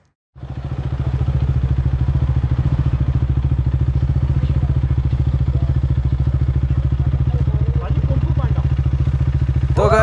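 A Kawasaki motorcycle with a fuel system problem, treated with fuel system cleaner, fires up abruptly and runs with a loud, close, rapid rhythmic thumping that holds steady throughout.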